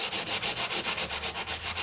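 A handheld sanding gadget rubs over raised embossing on alcohol ink film, giving a steady, close rasping scrape that repeats in quick, even back-and-forth strokes, roughly seven per second, with no talk.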